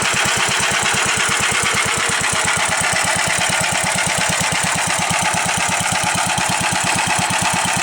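A 1956 Gravely LI garden tractor's small engine runs steadily but rough while cold, a rapid chugging rhythm, loud and close, with no talking.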